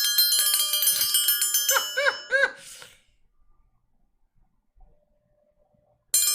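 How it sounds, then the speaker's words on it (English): A bright bell rings out in a rapid series of metallic strikes with lingering ringing tones, loud and close, then fades into near silence before a fresh burst of sound cuts in at the very end. "Ring the bell"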